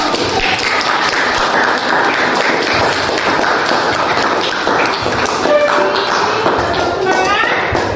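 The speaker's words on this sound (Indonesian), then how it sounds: "Tepuk tangan dulu." A classroom audience gives continuous, lively applause during a teaching session, with dense clapping throughout and voices mixed in.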